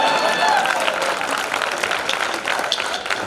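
An audience at a Hindi poetry gathering in Vidisha applauds a girl, a dense sustained burst of many hands clapping at moderate distance, with a voice speaking over it.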